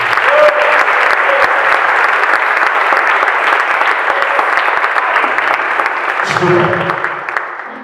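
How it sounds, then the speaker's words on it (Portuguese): A church congregation bursts into loud, sustained applause, a dense wash of clapping that fills the room and slowly fades, with a few voices rising briefly near the end. "Dê uma salva de palmas para o Senhor Jesus."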